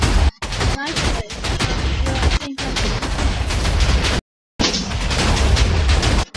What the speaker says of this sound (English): I'm listening to too much explosions.